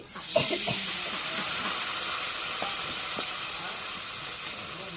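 Cumin and garlic fry in hot oil with a loud, steady sizzling hiss that flares at the start, with a few faint clinks of a utensil underneath.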